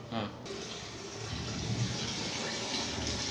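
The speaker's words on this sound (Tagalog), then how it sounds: "Ayan, may tulo na." Water from a household tap, just switched back on at the tank, starts flowing into a basin with a steady close splashing rush after a brief sputter.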